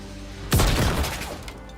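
A grenade blows up in the space game Star Citizen, a sudden loud booming blast with a crackling, rumbling tail that fades over about a second. No talking.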